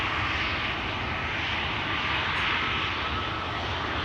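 A Transavia airliner lining up at Schiphol Airport gives a steady, broad engine roar at constant level throughout, with no talking over it.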